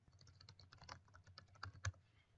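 Quick, uneven keystrokes patter on a computer keyboard, fairly faint and close, with one slightly heavier tap near the end and no talking.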